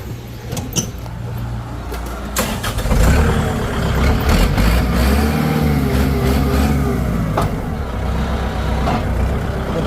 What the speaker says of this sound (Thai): อ่ะฟังเสียงเครื่องยนต์กันก่อน